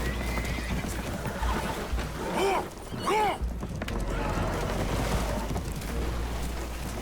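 Spooked horses whinnying aboard a damaged boat taking on water in the video game Red Dead Redemption 2, two loud neighs near the middle over a constant rumbling, rushing background.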